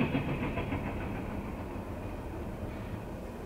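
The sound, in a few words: CSX Q367 freight train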